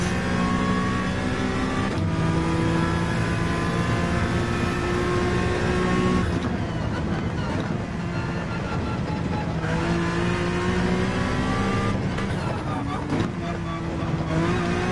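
A race car in Gran Turismo runs at full throttle, its engine holding a loud sustained high whine with a few shifts and dips in pitch and some tire noise.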